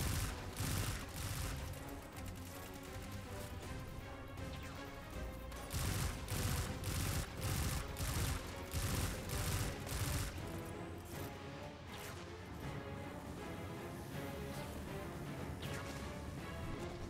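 Rapid, sustained bursts of automatic gunfire in the video game Destiny 2 crackle continuously, dense and loud, with short pulsing volleys and no voices.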